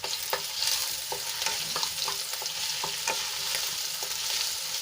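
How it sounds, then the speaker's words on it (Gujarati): Green chilies and crushed ginger sauté in hot oil in a pan, giving a steady close sizzle with repeated scraping and stirring clicks of a spoon throughout, without any talk. "અને તેલમાં આપણે એક મિનિટ માટે થોડુંક સાંતળી લઈશું"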